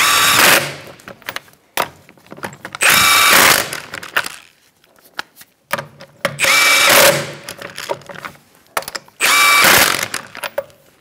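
A power tool drives the rear wheel lug nuts on a 2004-2009 Mazda 3 2.3L, with four loud whirring bursts of a couple of seconds each, separated by short pauses filled with faint clicks and handling noises.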